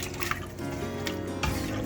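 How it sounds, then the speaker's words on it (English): Water is poured into a pot of yam and goat meat pepper soup, giving a steady, close splashing rush that holds for the whole short moment and swells near the end. "going to add water to it"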